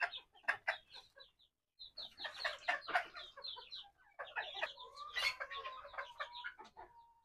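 Hens on a poultry farm cluck and chatter close by, a busy, irregular stream of short calls with a brief lull, fairly quiet overall and no voices.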